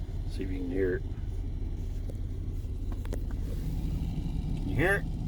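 A newly replaced blower motor in a 1998 Chevrolet S-10 Blazer runs inside the cabin with a steady, even fan whoosh and low rumble, and someone talks briefly at the start and end.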